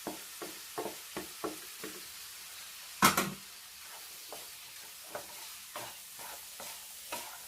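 Fried clam meat is stirred into simmering vinegar for a pickle: soft, regular scraping strokes of a spoon against the pan over a low sizzle, with one louder clatter partway through.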